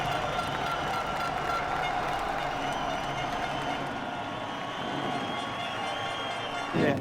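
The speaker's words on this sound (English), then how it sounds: "Just listen to the noise of the crowd" A large MotoGP crowd roars as Fabio Quartararo on the factory Yamaha takes pole, a broad sustained wash of cheering and distant noise that eases slightly midway, then swells briefly at the very end.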